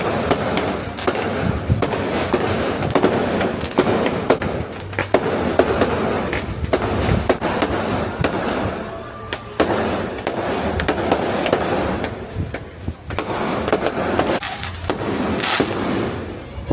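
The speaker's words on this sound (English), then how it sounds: "And I think they're doing fireworks for our anniversary." Fireworks go off outside a hotel window in Cartagena, Colombia, a dense run of sharp cracks and booming bursts that keeps up for the whole stretch, loud and continuous with barely a pause.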